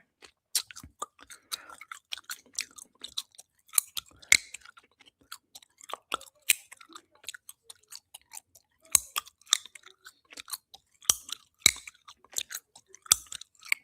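Gum chewed right up against the microphone, with wet smacks and clicks coming in an irregular, steady rhythm and short pauses in between, close and quiet, with no talking.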